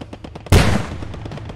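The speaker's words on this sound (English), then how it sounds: "Gunfire is hitting." In the video game Post Scriptum, a sharp burst of gunfire cracks out suddenly, followed by a ringing tail, after a run of faint rapid shots in the background.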